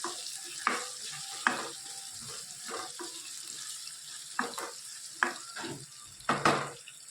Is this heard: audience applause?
no